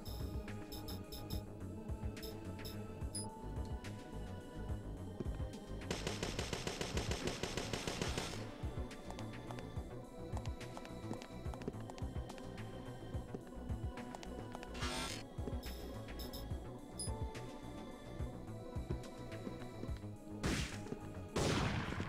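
Gunfire in the PlayStation game Parasite Eve 2 rings out in repeated sharp shots and a dense rapid burst, mixed with impact crashes and game sounds over a steady backdrop.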